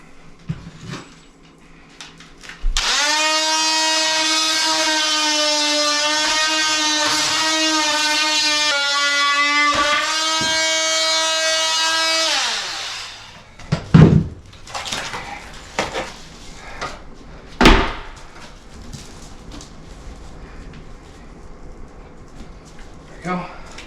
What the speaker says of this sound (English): Everybody needs an oscillating tool.